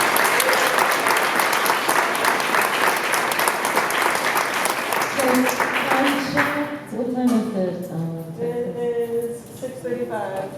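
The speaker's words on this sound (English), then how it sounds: "Can we give a round of applause to entire panel?" Loud, sustained applause from a symposium audience greets a panel, thinning out after several seconds as a voice starts speaking over the last scattered claps.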